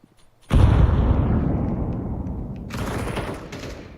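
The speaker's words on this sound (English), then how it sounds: "Deploying flashbang" A flashbang grenade detonating in Counter-Strike 2 with a sudden loud bang, followed by a long ringing, rumbling decay that swells again near the end.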